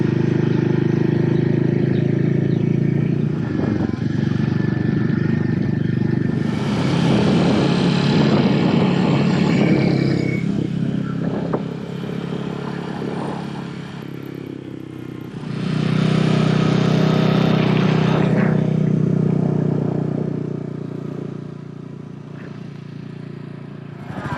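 A Royal Enfield Meteor 350 motorcycle engine drones loudly and steadily while riding, with the roar swelling and easing as the throttle and wind change.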